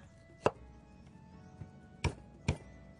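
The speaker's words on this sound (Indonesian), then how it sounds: "kemudian bawang daun dan seledri kita rajang halus-halus" Three sharp knife strikes on a cutting board as scallions and celery are finely chopped, irregularly spaced, with a softer tap between them, close and fairly quiet.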